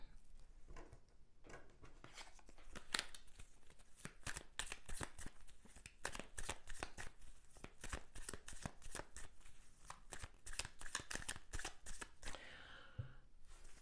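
Tarot cards being shuffled by hand in a quiet room, a long run of rapid riffling and slapping bursts, close and fairly soft, with no talk.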